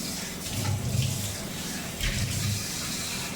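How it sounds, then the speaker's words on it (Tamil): Hot water is poured into a thick tamarind ginger pickle, giving a close, gurgling trickle that swells twice, with a louder splash near the end. "நம்ம கொஞ்சம் கூட வெந்நீர் சேர்த்துக்கலாம்"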